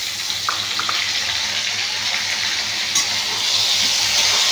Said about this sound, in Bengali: টমেটোটা একটু ভেজে নিই